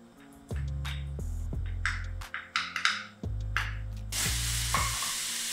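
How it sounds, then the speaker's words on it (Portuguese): Bacon browning in a frying pan for penne alla vodka, a steady close sizzle with repeated utensil scrapes and stirs; the frying swells louder near the end. "E aí eu vou dourar aqui o bacon."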